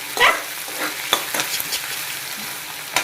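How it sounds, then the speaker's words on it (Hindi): A spoon stirs chillies and onion frying in hot oil for a paneer dish, with a few scraping clicks over a steady, close sizzle. "और ये मिर्ची भी डाल देते हैं और ऐसे चम्मच चला लेते हैं"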